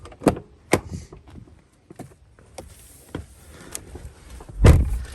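Honda pickup truck door opened with a push button on the door: a series of sharp clicks and clunks of the latch and door mechanism, close and fairly loud, with a louder thud near the end and no talking.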